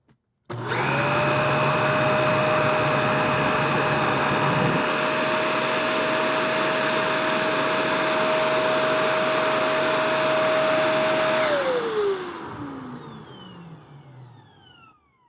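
A Shark Rotator XL NV90 vacuum cleaner runs steadily at full suction for a long stretch with a loud, constant whine and airy roar, then winds down as the motor pitch falls away at the end.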